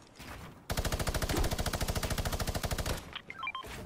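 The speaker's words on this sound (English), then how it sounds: "I hear gunshots, so they're probably fighting someone else right now" Rapid machine gun fire in a Fortnite match, a steady burst of about twenty evenly spaced shots lasting over two seconds, loud and close, followed by a few scattered clicks and electronic game tones.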